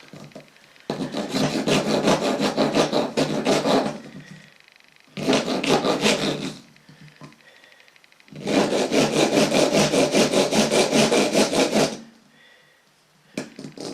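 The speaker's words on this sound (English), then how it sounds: "I'll try a kind of a rasp, see what happens." Rasp filing down part of a soldering iron, three long bursts of rough rhythmic scraping strokes, close and loud, with short quiet gaps between.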